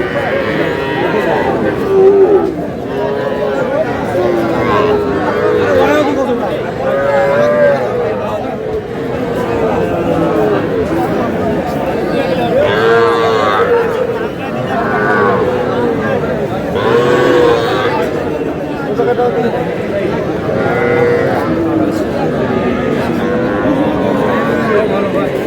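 Cattle, including young Sahiwal bulls, moo repeatedly amid a busy market crowd, with people talking and haggling throughout the scene.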